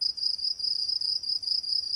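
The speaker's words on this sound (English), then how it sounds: "Crickets." Crickets chirping as a sound effect, a steady high-pitched trill pulsing in rapid regular bursts, clear and alone with no talk over it.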